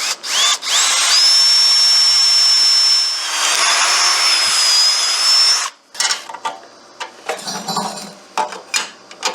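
A power drill fitted with a Milwaukee cobalt bit bores steadily through metal on a Gravely Protero bagger, one long loud whining run of about five seconds, followed by scattered clinks and handling noises.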